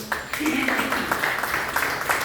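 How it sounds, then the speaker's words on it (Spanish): A church congregation claps for the Lord in a steady, dense round of applause that lasts the whole stretch at moderate loudness, with voices mixed in. "Den un aplauso al Señor"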